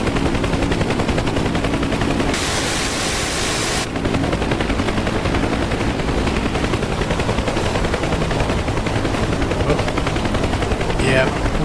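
Door gunners aboard a Huey UH-1 helicopter fire machine guns in the DCS flight simulator, a dense continuous rattle of automatic fire over steady rotor and engine noise, unbroken throughout.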